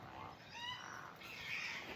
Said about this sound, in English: we were interrupted by the crows humping or fighting